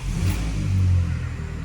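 A Volkswagen Polo, sitting for a couple of months after a clutch replacement and hooked to jumper cables, starts its engine. A short, close burst of cranking and a rising rev, with no voices.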